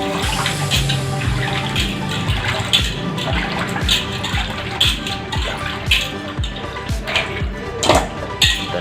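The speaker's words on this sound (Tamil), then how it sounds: "நல்லா 2-3 டைம்ஸ் நல்லா தண்ணி ஊற்றி வாஷ் பண்ணிக்கலாம்" Water poured and splashed repeatedly while washing cleaned pomfret fish in a bowl, loud close sloshing with rhythmic splashes throughout, no talk.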